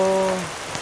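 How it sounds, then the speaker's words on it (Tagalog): Heavy rain lashes down in a gust during a typhoon, a dense steady hiss of drops on surfaces, loud and close, with a brief tonal sound fading out early. "Bugso yung ulan."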